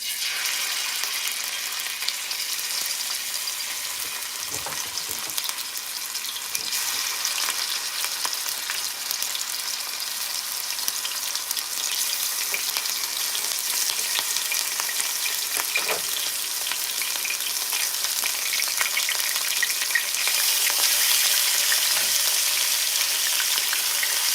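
Ground turkey for tacos fries in a pan with a steady broadband sizzle that grows slightly louder toward the end, broken by a few soft scrapes and stirring knocks, with no voices.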